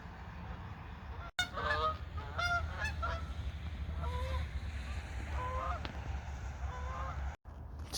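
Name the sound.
Canada goose honking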